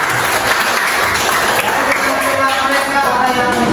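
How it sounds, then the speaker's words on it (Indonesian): Classroom applause from students clapping together after a classmate's introduction, a steady, dense wash of many hands that stays loud and even for the whole stretch. "tepuk tangan untuk mereka"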